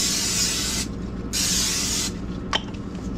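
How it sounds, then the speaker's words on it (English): Cooking spray hisses from an aerosol can in three bursts: a long spray, a shorter one, then a third, close and loud, followed by a faint click. "I forgot to put the cooking spray to it."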